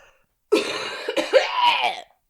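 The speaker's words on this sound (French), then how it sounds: "Attends, je tousse." A person coughs a few times in a quick rough cluster, close and fairly loud, in a short burst that follows near silence and then fades back out.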